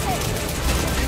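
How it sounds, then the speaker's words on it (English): Rapid gunfire in the video game Halo 5, a dense burst of overlapping shots with a busy, continuous crackle across the whole moment. "there's someone shooting at me from behind"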